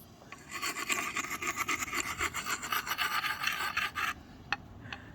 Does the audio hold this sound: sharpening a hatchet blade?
yes